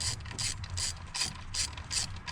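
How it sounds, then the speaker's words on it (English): A ratchet tightens the bolts on a fourth-generation V6 alternator, a close, repeated clicking of the pawl in quick bursts with brief pauses between, heard alone with no talking. "now that we can go ahead and take and tighten our bolts down to German torque specs"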